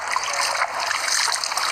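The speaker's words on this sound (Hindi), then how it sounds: "आप पानी लें और इस तरह पानी डालते जाएं" Water pours and splashes continuously, close and fairly loud, as it runs over hands during wudu ablution.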